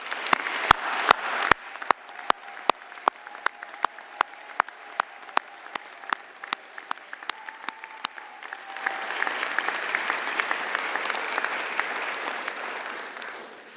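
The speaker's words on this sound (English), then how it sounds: "Please join me again in applauding their exceptional accomplishments." Applause for honorees at a university faculty honors convocation, starting as scattered, distinct claps from a few people in a large hall and swelling after several seconds into fuller, continuous clapping from the audience.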